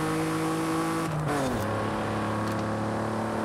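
A Cadillac limo accelerates in the racing game Forza Horizon 5, its engine a steady droning hum whose pitch dips and then climbs as it gathers speed. No one speaks.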